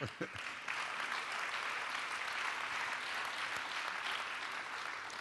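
An audience applauds at a festival talk, dense sustained clapping from many hands filling the room at steady loudness, after a brief moment of speech at the start.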